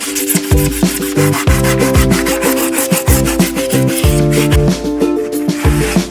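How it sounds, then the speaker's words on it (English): A piece of styrofoam is shaved down along its edges, making loud, close, rhythmic squeaky rubbing strokes with a tonal squeal repeating about twice per second, alone without speech. "I'm just taking a piece of the styrofoam and shaving down the edges so that we can get a better fit."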